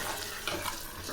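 Water is poured in small amounts into a cooking pot of plantain curry, a soft, steady trickling splash at close range, quiet and continuous for about a second, with no talking.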